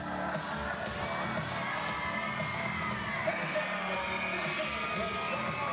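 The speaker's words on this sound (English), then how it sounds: "Listen to that energy of all the kids here from the local Baltimore area schools here to cheer on your Loyola Greyhounds today" A large crowd of local Baltimore-area school kids cheers and shouts continuously at a women's college basketball game in an arena, a dense, sustained roar of high voices with occasional whoops.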